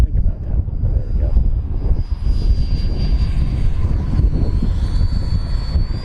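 An FMS Viper Jet 70mm electric ducted-fan RC jet coming in to land with power off, a steady whooshing rush with a thin high whine, fairly loud and continuous over outdoor wind noise.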